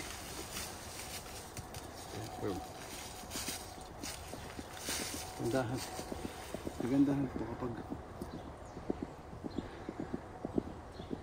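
A horse's hooves clip-clop at a walking pace behind someone talking in Filipino outdoors, with soft irregular knocks rising toward the middle, fairly faint and mostly under the speech.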